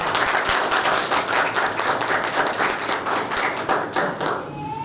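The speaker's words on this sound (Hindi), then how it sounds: "तालियों के साथ।" Guests at a Delilah Charity event clap together in a dense, continuous round of applause that stays loud throughout and thins slightly near the end.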